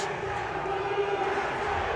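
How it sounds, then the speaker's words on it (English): Spectators at a collegiate powerlifting meet roar and cheer in a steady, loud wash of crowd noise that fills the whole space without a break. "the crowd here is getting very riled up"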